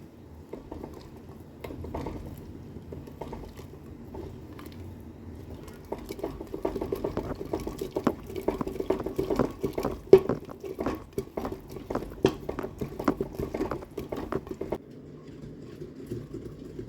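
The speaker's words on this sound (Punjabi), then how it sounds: "ਆਪਾਂ ਹੁਣ ਫੇਰਦੇ ਆ ਇਹਦੇ ਵਿੱਚ ਘੋਟਣੀ" Mixed dal being churned in a clay pot with a wooden churner, a soft wet squishing and patter that builds into quicker rhythmic sloshing strokes midway, then eases off, close and steady with no talk.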